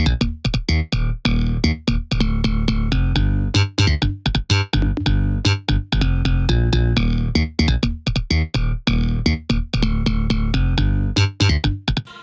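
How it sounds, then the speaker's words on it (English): Layered basses playing together, a slap bass, a trap-style bass and a Serum synth patch, from the production of a track: a loud, dense, punchy low-end groove with rapid rhythmic stabs throughout, no talking. "And then all the basses together, which is, a slap bass, this trap kind of thing, a serum patch"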